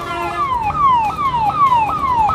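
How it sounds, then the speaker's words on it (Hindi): An ambulance siren wails loudly and close, with rapid repeating descending sweeps cycling over steady road traffic noise at a busy intersection, with no talking heard. "देखिए एक एम्बुलेंस आ रही है और उसके लिए जगह भी बनाया जा रहा है"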